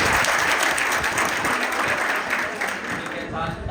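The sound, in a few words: audience applause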